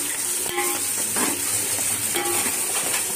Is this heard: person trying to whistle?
no